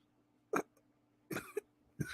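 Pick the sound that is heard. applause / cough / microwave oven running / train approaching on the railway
cough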